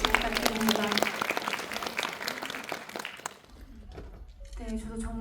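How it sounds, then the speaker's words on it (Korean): Applause from an audience at a Korean film screening and talk event, with talking over the first part, dying down briefly before a voice speaks again near the end. "여러분들 박수 부탁드립니다"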